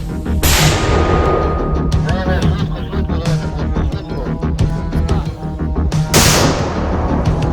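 Two sharp, booming launches of a mortar in a combat zone in Kharkiv region, one early and one near the end, with muffled background noise between the blasts.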